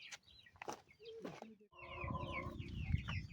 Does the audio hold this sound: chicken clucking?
yes